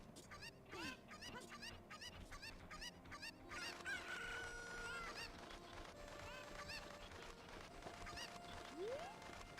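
Chickens in the video game The Legend of Zelda: Ocarina of Time give out repeated quick clucks and squawks, a rhythmic run early on and then scattered calls over a faint, steady game background.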